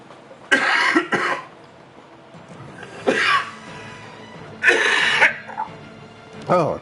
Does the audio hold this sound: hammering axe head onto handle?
no